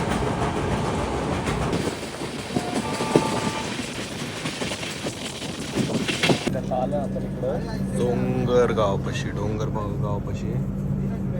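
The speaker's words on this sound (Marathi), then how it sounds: "ट्रेन तर निघली आता" A delayed passenger train rolls along the rails, heard from inside as a loud rumbling clatter with a brief horn-like tone, then a quieter steady hum as people talk nearby.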